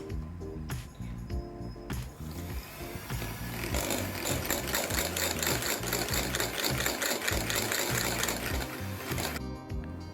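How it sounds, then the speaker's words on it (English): Electric mixer beating marble cake batter as eggs are added, a steady whirring motor hum with rattling beater clatter against the bowl, continuous and close, with no talking. "Continue mixing till you've added in all the eggs."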